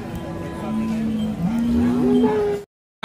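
A cow moos at a desi cattle market in Kashti, one long drawn-out low call that rises in pitch, loud and close, with faint crowd noise behind.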